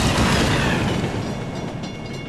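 A train rushes past in a video game with a loud, dense rumble that fades slightly toward the end, heard alone without talk.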